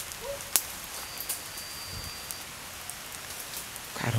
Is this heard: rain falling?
yes